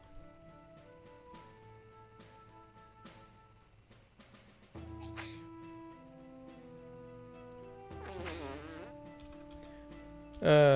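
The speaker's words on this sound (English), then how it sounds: "I think somebody just farted in the game." A buzzy, tonal fart sound from a video game, played among soft game music tones and rising into a louder, wobbling blurt near the end.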